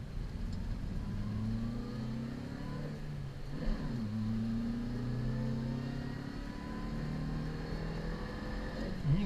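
A 1992 Subaru Vivio's small engine revs up through the range toward 5,000 RPM, its pitch climbing, dipping briefly and rising again in a steady, close, moderately loud drone.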